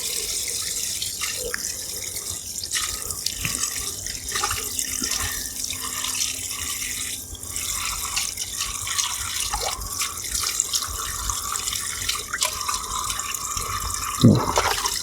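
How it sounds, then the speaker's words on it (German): Water runs steadily from a tap into a small camping sink while dishes are washed in a forest camp, a continuous close splashing with drips and a few clatters near the end. "Unser kleines Spülbecken. Und können somit jetzt wunderbar"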